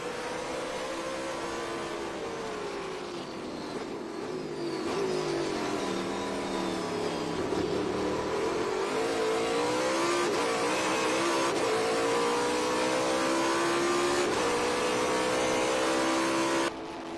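A Trans Am TA2 race car is worked hard around a road course. Its engine climbs and drops in pitch through repeated upshifts and braking, a loud, continuous roar with no commentary over it.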